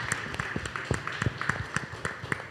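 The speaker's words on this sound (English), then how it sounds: "Give her a round of applause for that." A small summit audience on teen dating violence awareness in the Virgin Islands gives a round of applause; sparse, distinct handclaps in an uneven rhythm, fairly faint and at a moderate distance.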